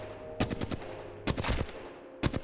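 Weapon fire at targets in the Apex Legends firing range: three short, sharp bursts of rapid shots, spaced about a second apart, loud and close against a quiet game backdrop, with no talk.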